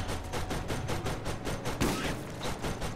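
Rapid bursts of automatic gunfire crackle in the Borderlands video game during a co-op firefight, dense and loud throughout with a slightly heavier volley near the end.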